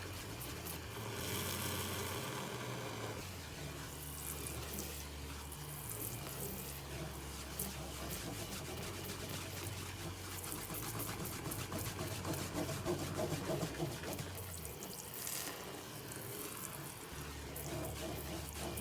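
Cold tap water runs steadily into a sink over makeup brushes in a strainer, a continuous splashing rush close by, with occasional clunks and shifts in the flow as things move under it.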